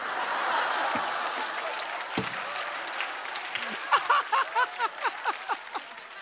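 Studio audience applause at a Korean TV comedy show, a dense patter of clapping that fades under louder bursts of laughter and chatter, with a host's voice talking over it.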